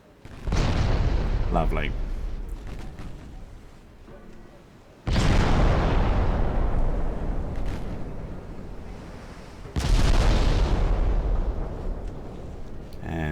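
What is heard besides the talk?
10-inch guns firing, from a video game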